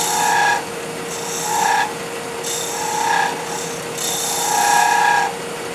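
A wood lathe running at full speed, 2,700 RPM, hums steadily while the tool makes light cuts in the spinning wood, giving repeated rasping, scraping passes of about a second each at regular intervals.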